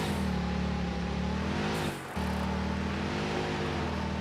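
Steady droning truck engine in the video game Satisfactory, a constant low hum with a brief dip near the two-second mark before resuming at the same level, no speech.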